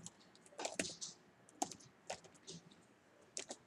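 Quiet keystrokes on a computer keyboard, a few scattered clicks and short bursts of typing spread unevenly, with no talking.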